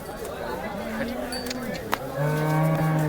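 A cow at a cattle market in Sangola, India, lets out a low, drawn-out moo, followed by a second deeper moo, over faint background chatter.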